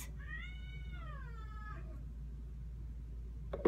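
A kitten gives one clear, drawn-out meow near the start, close and fairly loud, followed by quiet and a brief rustle at the end.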